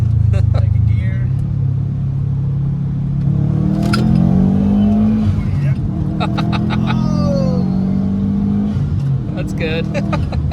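A 2010 Subaru STI turbocharged engine pulls hard under full acceleration from inside the car, a loud steady rising drone with shifts in pitch, while occupants talk over it.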